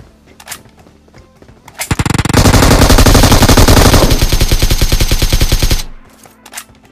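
Rapid automatic gunfire in the video game BGMI bursts out loud and sustained for about four seconds, preceded and followed by scattered single shots.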